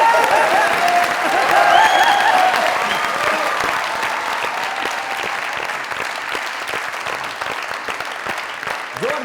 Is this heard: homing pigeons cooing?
no